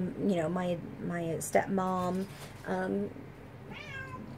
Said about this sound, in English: meowing up a storm